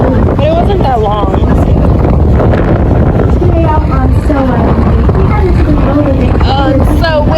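Strong wind buffets the microphone aboard a whale-watching boat out of Boston, a constant loud roar with the boat's engine rumbling underneath while people talk throughout.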